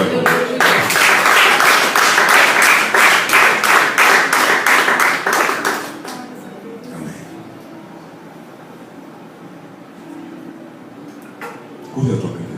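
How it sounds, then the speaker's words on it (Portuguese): A church congregation claps in a rhythmic, loud, even beat for about six seconds, then the clapping stops abruptly, leaving a quiet room with faint murmurs and a brief noise near the end. "Você pode aplaudir"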